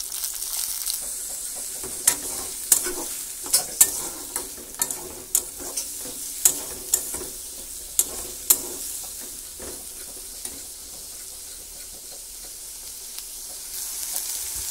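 Chopped green chili, ginger, garlic and tomato stirred together in a pan, a spoon scraping in sharp repeated clacks over a steady low sizzle, close and alone with no voices.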